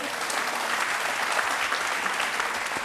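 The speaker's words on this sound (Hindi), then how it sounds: "तालियां।" Studio audience applauding steadily at a televised courtroom-style interview show with boxer Mary Kom, a dense, even clatter of many hands that holds at constant loudness throughout, with no voices over it.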